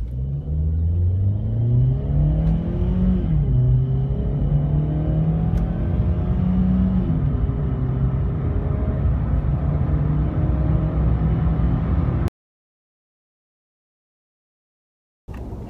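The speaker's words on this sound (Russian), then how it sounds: "Единственное, портит впечатление, это шумный двигатель, очень шумный двигатель." A Skoda Fabia with an automatic gearbox and a 105-horsepower engine drones loudly while driving, its pitch rising and shifting between gears before a sudden silence near the end.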